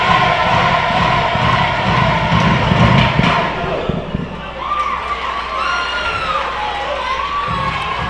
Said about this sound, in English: good show of the Cardettes there cheering on the team